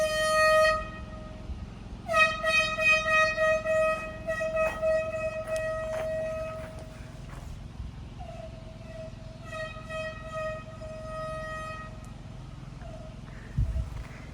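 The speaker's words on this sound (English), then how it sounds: "We're gonna try an air horn blast a porcupine out from underneath the cabin." Air horn sounds several long, loud harmonic blasts outdoors near an off-grid cabin, fired to drive a porcupine from underneath, with pauses between each blast and a thump near the end.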